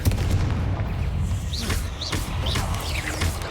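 Repeated Confringo blasting spells firing in Hogwarts Legacy, a dense run of booming blasts and crackling impacts with whooshing streaks every half second or so over a rumbling low battle din.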